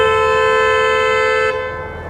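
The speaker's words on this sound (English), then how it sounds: "thinks he could come around my neighborhood and honk at me" A car horn blares outside a home's gate in one long, loud, steady blast that stops sharply near the end, leaving a fading tail.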